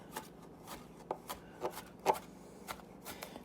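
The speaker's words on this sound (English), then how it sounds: "Now that my garlic is minced into a pretty reasonable size" A knife rhythmically chops and minces garlic on a cutting board, irregular close taps spaced through the moment with no talking.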